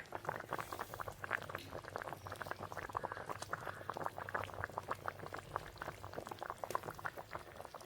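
Traditional fish curry simmers in a clay pot on the stove, with dense, steady small bubbling and popping that stays close but soft throughout and no voices.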